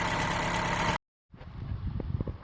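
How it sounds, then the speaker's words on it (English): A car engine idling smoothly, a steady mid-low hum that cuts out for a moment and then returns at a lower, uneven level with a few faint bumps. "The engine is idling real smooth."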